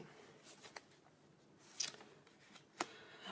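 Tarot cards are shuffled by hand in a quiet room, giving a few soft riffling and snapping bursts with brief pauses between them.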